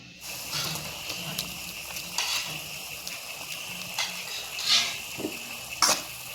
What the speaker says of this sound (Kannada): ಎಣ್ಣೆಯಲ್ಲೇ ನೀಟಾಗಿ ಫ್ರೈ ಮಾಡಬೇಕು.